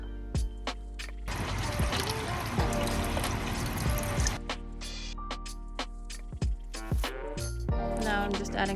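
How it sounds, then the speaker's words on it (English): Chicken broth pours steadily into a pot for a few seconds, followed by scattered clinks and sizzling kitchen sounds up close. "Now it's time to pour in the chicken broth."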